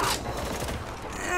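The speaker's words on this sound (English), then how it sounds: "Gunfire, move up." Video game gunfire in Spec Ops: The Line comes as a brief burst of rapid, harsh shots with crackling mechanical clatter, fairly loud and dense within a short moment.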